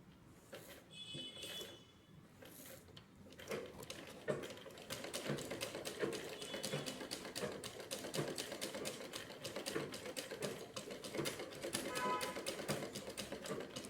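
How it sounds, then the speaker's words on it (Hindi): Manual sewing machine driven by a foot pedal after the balance wheel is turned by hand, stitching straight lines: a quiet, steady rapid clatter that builds after a few seconds and runs on continuously, close but faint. "Start your machine with the feet pedal."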